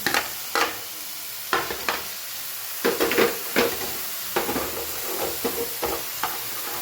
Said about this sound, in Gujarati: આપણે એક પડી જેટલું તેલ લઈ લીધું, તેમાં ડુંગળી એડ કરી દઈએ. સાથે સાથે કેપ્સિકમ પણ એડ કરી દઈએ.